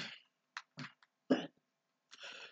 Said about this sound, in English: I hate having the hiccups